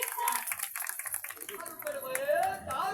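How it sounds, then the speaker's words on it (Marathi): Villagers at a Satyanarayan puja celebration clap for a prize winner, a brief burst of brisk applause that thins out as a voice speaks over it. "एकदा जोरदार टाळ्या."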